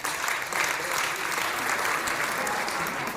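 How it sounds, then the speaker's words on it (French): An audience applauding at a school awards gala, dense, steady clapping from a large crowd that fills the whole stretch evenly. "Applaudissons chaleureusement notre équipe de soccer Benjamin féminin Division 3"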